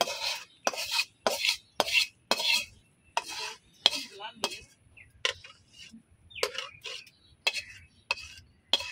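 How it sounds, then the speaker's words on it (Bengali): Thick cooked kotkoti mixture is scraped and poured from a pot onto an oiled plate, giving a run of close, sharp metallic scrapes and clinks in an irregular rhythm, with no talk. "এই যে আমি প্লেটে ঢাইলা নিচ্ছি।"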